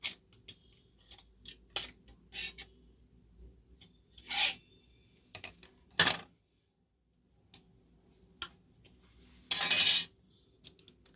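Epoxy resin and hardener being stirred together for a fountain pen grip repair, heard as intermittent scraping and rasping strokes, some brief and some longer, close up with quiet gaps between them and no talking.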